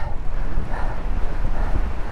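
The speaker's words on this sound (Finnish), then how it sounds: "Kyllä se tuuli vähän hidastaa." Gusty wind buffets the microphone in uneven rumbling bursts during a 200 km bicycle brevet ride, loud and close, with no voices.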